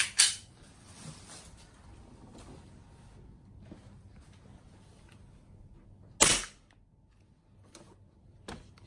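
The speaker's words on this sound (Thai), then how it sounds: "เราขอยิงที่ก๊อกสามสิบสี่ก่อนเนาะ ทดสอบความแรงนะครับ" WE Taiwan custom Glock 34 airsoft pistol fired for a power test: a few sharp, isolated cracking shots spaced seconds apart, with one loud close report partway through and fainter clicks between.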